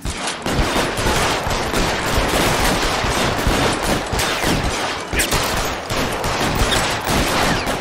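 Dense, continuous automatic gunfire rattles loudly without pause in the video game L.A. Noire, a sustained fusillade of overlapping shots.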